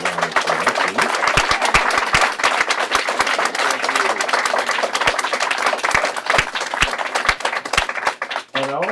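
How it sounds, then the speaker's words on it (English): Sustained, loud applause from an audience honors jazz drummer Grady Tate, many hands clapping at once with a few sharp individual claps standing out, running nearly the whole time before tapering at the end. "And I want to give him another round of applause, please."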